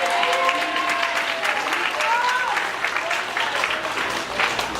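Church congregation applauding steadily throughout, with voices mixed in beneath the sustained clapping.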